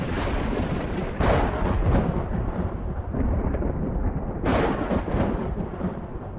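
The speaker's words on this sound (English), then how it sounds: "We'll give it some lightning." A thunder and lightning sound effect: deep, continuous rolling rumble with two sharp, bright cracks, one early and one later, each swelling loudly before settling back into the steady low roar.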